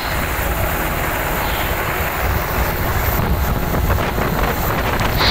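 Strong wind roars and buffets the microphone continuously during Philippine and American marine Balikatan exercises, a loud broadband rush with a low engine drone beneath it.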